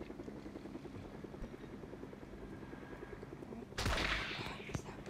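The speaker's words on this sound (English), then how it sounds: "Is he gonna try to seriously run me over with a helicopter?" A helicopter in the battle royale game Fortnite drones steadily with a chopping rotor beat, joined near the end by a louder burst of noise like an explosion or gunfire.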